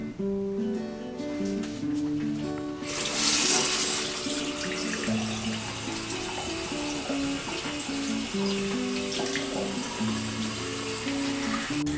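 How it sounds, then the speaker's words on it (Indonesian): Hands are washed under a running tap: water gushes in suddenly and keeps flowing steadily over soft background music. "Mencuci tangan dengan air mengalir sangatlah sederhana."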